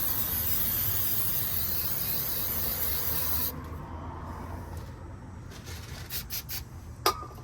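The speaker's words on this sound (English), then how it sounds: "I'm going to use some brake clean to clean off the area here." A steady, loud aerosol hiss of brake cleaner sprays for about three and a half seconds at the rear axle of a Ram 1500 truck, then stops, followed by quiet handling sounds and a brief click.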